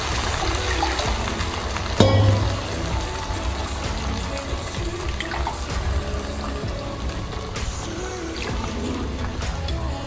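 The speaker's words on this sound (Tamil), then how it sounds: "கொஞ்சம் தண்ணி ஊற்றி சேர்த்துக்கோங்க." Water poured into a pan of Kongu-style bitter gourd gravy with ground paste, a steady liquid wash and trickle with a brief louder splash near the start.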